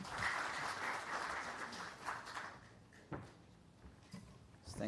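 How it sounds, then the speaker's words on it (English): Audience applauding at a redevelopment conference in Mumbai, a dense wash of clapping that swells loudly at first and then thins out to scattered claps before fading. "Please give him a huge round of applause."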